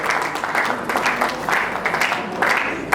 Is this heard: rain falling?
no